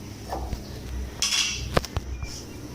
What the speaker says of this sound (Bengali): তো কড়াইটা বসিয়ে দিচ্ছি